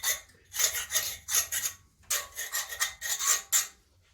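Hand scuffing of a cast iron crankshaft from a McCormick Deering type M engine, close rhythmic rasping strokes in two groups of quick back-and-forth rubs with short gaps between.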